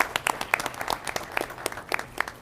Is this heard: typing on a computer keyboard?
no